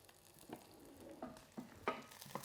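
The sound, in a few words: garlic and ginger sizzling and being stirred in hot oil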